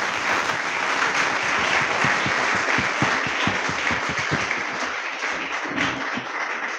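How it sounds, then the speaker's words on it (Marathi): A crowd applauds for the student organizers at a college Teachers' Day felicitation ceremony: dense, sustained clapping that holds steady throughout, full and close, with sharper individual claps standing out in the roar. "एकदा जोरदार टाळ्या या आयोजन केलेल्या विद्यार्थ्यांकरिता आपण सगळेजण वाजवूया"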